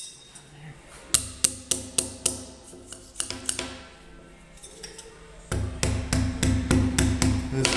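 Metal hammer striking a curved sheet-metal flange: a run of sharp, ringing taps in a steady rhythm, a pause with lighter ticks, then a denser burst of close, loud blows.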